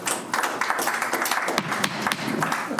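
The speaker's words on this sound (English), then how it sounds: "We will not have any clapping." Audience clapping in a meeting hall, a brief burst of many hands applauding with rapid, dense claps that stays steady for a few seconds.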